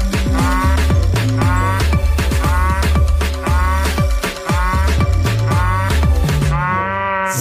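Toy cow playing a repetitive electronic melody with synthesized mooing, loud and continuous, with steady beeping tones and rhythmic pulses throughout and no talking.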